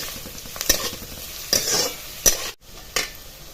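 Chopped onion sautéing in a pan for amti, a soft sizzle broken by a few sharp scrapes of stirring, close and without talking.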